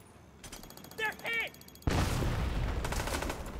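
Gunfire in a shooter game: a quiet stretch with a couple of short tonal chirps, then sudden loud, continuous rattling fire that carries on to the end.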